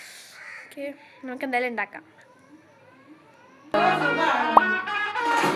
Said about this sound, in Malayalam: ഇവിടെ കാക്കയുടെ ശബ്ദം ഉണ്ട് കേട്ടോ